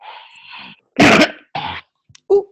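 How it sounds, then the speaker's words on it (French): Someone in an audience coughs several times in quick bursts, fairly close and loud, with brief silences between. "il y a quelqu'un qui tousse"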